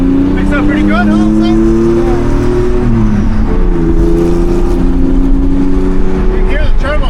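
Twin-turbo Porsche 930 RWB engine droning steadily inside the cabin while driving, a loud continuous tone rising and dipping as the turbo spools up, with a voice talking over it.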